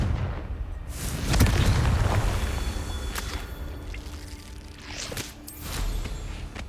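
Blasts from the Confringo fire spell in Hogwarts Legacy go off one after another. A heavy boom lands early, and sharper cracks and whooshes follow against a rumbling background.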